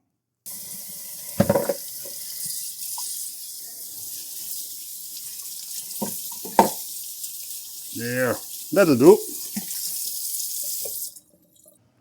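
Cold tap water runs steadily into a pot for boiling beef, filling it with a constant hiss. Someone speaks briefly over the flow before it shuts off.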